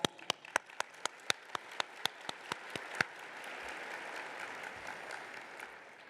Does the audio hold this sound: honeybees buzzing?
no